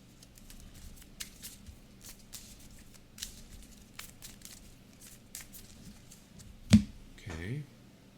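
Soft, close handling of Marvel Champions game cards with light taps and riffles, quiet throughout, ending in a sharp snap and a short low rattle.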